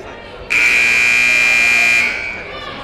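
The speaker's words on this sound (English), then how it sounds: "Let me tell you, that buzzer is loud." A loud basketball game buzzer in a gym sounds as one steady, harsh tone for about a second and a half, then cuts off, with crowd murmur underneath.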